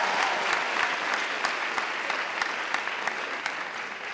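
Audience at a French stand-up comedy show clapping steadily, with individual sharp hand claps standing out from the sustained roar of applause.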